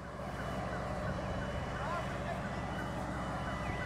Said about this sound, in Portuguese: Os alarmes da granja tá batendo.